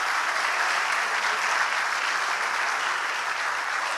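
A church congregation applauding in praise, a dense, steady wash of clapping that fills the space evenly and continuously with no voices standing out.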